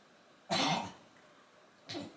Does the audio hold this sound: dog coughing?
yes